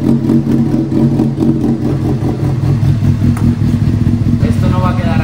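A Honda CBR motorcycle engine with a replacement exhaust idles loudly and steadily up close, its exhaust thrumming with a rough, pulsing rumble.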